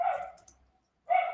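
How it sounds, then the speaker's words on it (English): A dog barks outside an open window on a warm day, two short barks with a brief gap between them, fairly faint and heard alone. "I think you can hear a dog barking."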